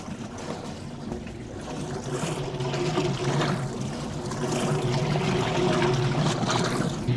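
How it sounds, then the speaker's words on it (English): Water sloshes and trickles steadily in the tub of a vintage Maytag wringer washer as clothes are rinsed without soap, a continuous churning wash that swells slightly louder toward the end, with no talking. "I'm going to repeat the process with no soap and just rinse my clothes"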